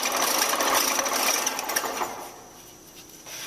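A power saw cuts through wood while making a casserole holder, giving a loud, steady buzzing whine for about two seconds that then drops away to a quieter tail.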